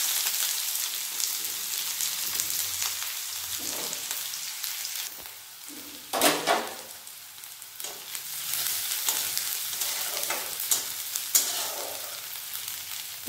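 Chopped onion frying in hot oil in a wok, a continuous close hiss and crackle with a few louder stirring clatters, no voices over it.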